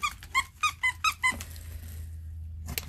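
A squeaky Mr. and Mrs. Claus dog toy is squeezed six times in a quick rhythmic series of sharp, close, high-pitched squeaks, followed by a quiet pause and one last short squeak.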